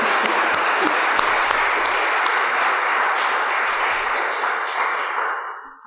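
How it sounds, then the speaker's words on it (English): Audience applause at an evening literary event with the U.S. Poet Laureate, dense sustained clapping from a large crowd filling the room, loud and close, then fading out at the very end with no talk. "Let's give a round of applause to our English literature teachers and all educators for all they do."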